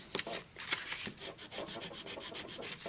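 Paper from a Fun In The Sun Paper Pumpkin craft kit is burnished by hand, a close, brisk series of dry rubbing strokes in a quick repeating rhythm.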